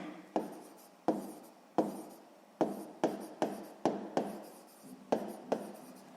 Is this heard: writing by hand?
yes